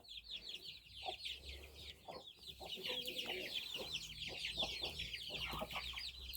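A hen and rooster cluck steadily at close range, overlapping calls over a continuous high chirping of birds in the background.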